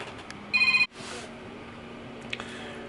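A telephone rings with an incoming call, a short burst of electronic trilling pulses that cuts off abruptly, followed by quiet room noise.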